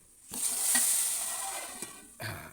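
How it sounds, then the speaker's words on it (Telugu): Hot spice tempering is poured into village-style lentil soup, setting off a sudden loud sizzle that swells and slowly fades over about two seconds, followed by a brief clatter. "పోపును ఇందులో వేసుకుందాము"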